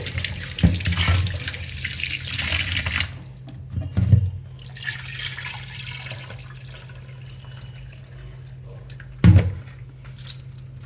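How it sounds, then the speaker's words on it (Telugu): A tap runs water into a sink as fish pieces are washed, with splashing and handling, stops, then brief thumps and a short splash follow in a quiet room. "ఫిష్ ముక్కల్ని ఫస్ట్ ఇలా వాటర్తో కడిగేసుకొని"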